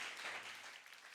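Brief, faint clapping from a church congregation, a soft wash of hands fading out within about a second.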